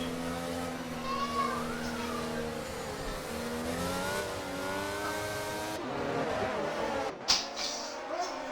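Race cars and a safety car drive in rFactor 2, with a steady whining engine drone and shifting pitch sweeps as cars accelerate, heard continuously with a faint voice underneath.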